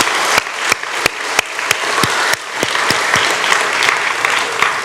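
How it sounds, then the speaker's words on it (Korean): Church congregation of children and adults applauding together in a worship service, a full, steady wash of clapping with a few loud sharp claps standing out near the front throughout. "우리 힘차게 박수하겠습니다."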